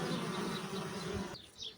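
Honey bees buzzing at an open hive in early spring, a dense, steady, close-up drone that thins out briefly near the end.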